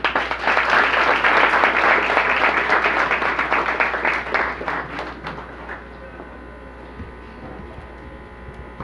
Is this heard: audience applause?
yes